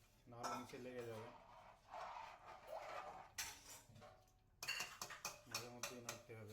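Spoon clinking and scraping against a pot while haleem is stirred with spices, with intermittent metallic knocks and rattles through the clip and a voice speaking over parts of it.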